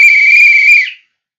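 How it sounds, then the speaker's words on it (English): An old soccer referee's whistle gives one loud, steady shrill blast of nearly a second, then cuts off into silence. "it's not uncommon for teachers to blow the whistle as such"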